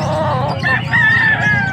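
Young roosters (stags) at a poultry market in Angeles, Pampanga, one giving a short, strained crow against close clucking and market bustle.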